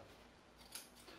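Scissors snip through fabric for a sewn collar, giving one brief, quiet cut near the middle of a near-silent moment. No one speaks.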